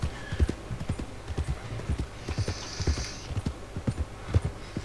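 Hooves of a ridden horse in Red Dead Redemption II beat out a quick, regular clip-clop rhythm, close and clear, with faint ambient sounds behind.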